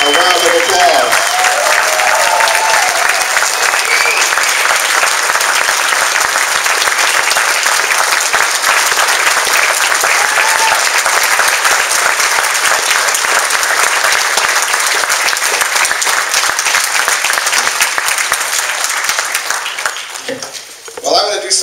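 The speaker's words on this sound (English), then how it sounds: "Let's give Jim Bellacera, our founder, CEO, and Successful Thinkers, a round of applause." A large audience breaks into loud, sustained applause at a founder's surprise birthday event, a dense wall of clapping that holds steady for about twenty seconds before tapering off near the end.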